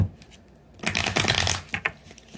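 A deck of cards riffled and shuffled close by in a quick flurry of crisp flutters after a short quiet moment.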